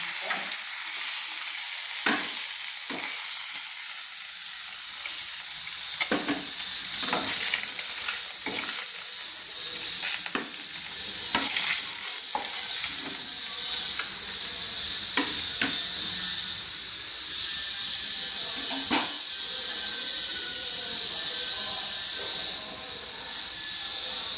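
Continuous crackling sizzle of fish frying in oil in a wok, with intermittent sharp pops and spatters throughout.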